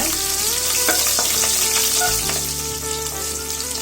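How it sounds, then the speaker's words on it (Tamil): Sliced small onions with green chillies and curry leaves sauté in hot oil in a pan, giving a steady, close, continuous sizzle and frying crackle with occasional stirring scrapes throughout. "வெங்காயம் பச்சை வாசனை போற வரைக்கும் வதக்கிக்கங்க"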